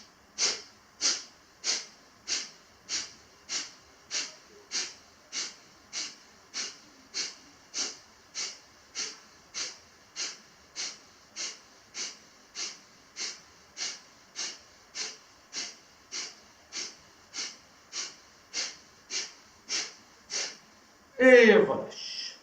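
Rapid rhythmic breathing during a hatha yoga class: about thirty short, sharp nasal exhalations in a steady even pulse, close and clear, ending with a louder breath.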